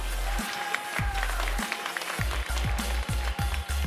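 Studio audience clapping to welcome the winning team of a KartRider esports semifinal, applause running under loud thumping music beats and a few short bursts.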